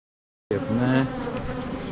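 Honeybees buzz at a hive during artificial swarm control, a dense, steady hum of many insects that starts abruptly and carries on close and loud without talk.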